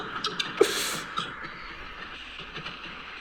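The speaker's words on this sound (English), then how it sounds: "Sounds like there's like a train." Train passing near a busy city street, a rumbling rail roll with a sharp hiss burst and faint clicking, heard at moderate distance amid traffic noise.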